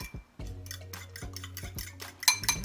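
A utensil stirs French toast mixture in a bowl close by, giving soft scraping swirls punctuated by light clinks against the sides, ending with a few brighter taps.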